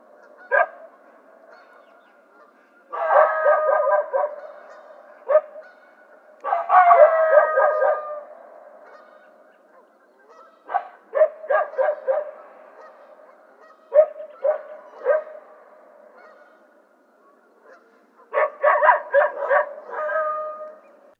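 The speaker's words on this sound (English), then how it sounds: "How about some dogs from a thousand feet away?" Dogs bark in clustered bursts from about a thousand feet away, irregular volleys of yelps and barks spread across the stretch with quiet gaps between.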